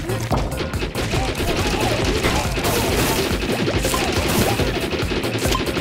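Rapid automatic gunfire from a weapon in the video game Alien Hominid: Invasion, a dense unbroken stream of shots with crashing impacts, loud and continuous throughout.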